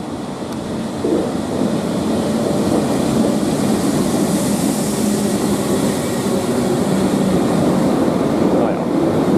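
A train pulling into Kufstein station in the distance, a steady broad rumble and rolling noise that carries on without pause across the whole stretch.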